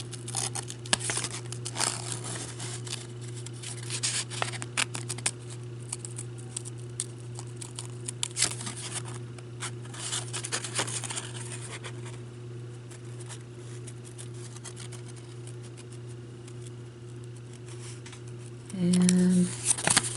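Fiskars scissors cut slowly through paper on a craft project, leaving scattered soft snips and crinkles over a steady electrical hum and a brief tone near the end.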